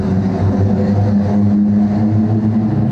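Steady engine drone with a strong low harmonic hum holds for about three seconds at fairly high level, consistent with a motorbike nearing at night in a derelict housing estate in Port Glasgow.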